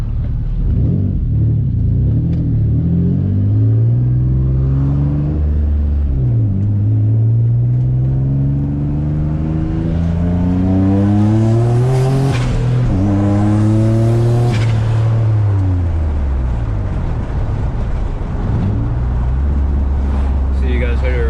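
Turbocharged Infiniti G35 engine revs loud and close, its pitch climbing and falling through several sweeping rises over a constant rumbling drone, with no other sound.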